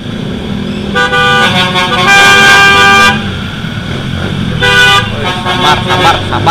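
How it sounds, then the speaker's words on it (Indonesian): A car horn honks in two sustained blasts, loud and close, at a motorcycle rider on the street, over a steady rumble of road traffic, with a voice talking faintly underneath. "Ini apa sih, kena klakson dah."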